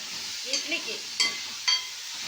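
Chicken liver gravy sautéing in a pan, a soft steady sizzle with a few sharp stirring clinks and scrapes, fairly faint, with a brief voice murmuring near the start.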